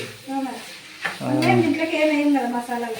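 Black-eyed peas are stirred in a pan with a soft sizzle, the spoon scraping and rattling loudly through the middle of the clip while a voice speaks faintly at the start.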